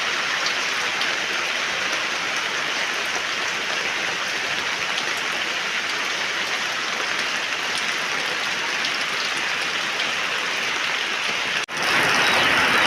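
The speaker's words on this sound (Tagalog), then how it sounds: "bumuhos na po ang malakas na ulan" Heavy rain pours down steadily in a dense, continuous hiss, unbroken for the whole stretch and loud and close.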